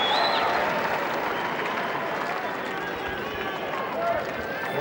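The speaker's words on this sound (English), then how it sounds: "And the volume increasing from this very pro-American crowd here." A pro-American tennis crowd at the 2010 Indian Wells final cheers and applauds in a dense, sustained wash of noise that builds slightly toward the end, with a commentator speaking over it.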